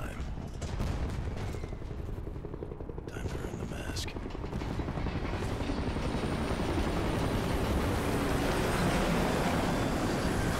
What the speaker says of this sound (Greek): Ελικόπτερα εδώ.